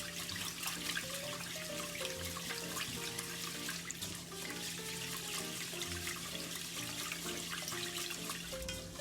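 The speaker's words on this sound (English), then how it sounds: "Let me wash rice." Steady running water with splashing and light sloshing, as rice grains are washed by hand in a bowl for sushi rice; continuous and close, with faint background music.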